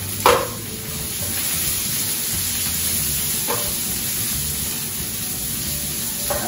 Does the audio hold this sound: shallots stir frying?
yes